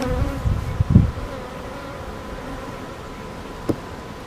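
Honeybees hum steadily at a hive as they bring in nectar, a close continuous drone with a few soft thumps and rustles early on.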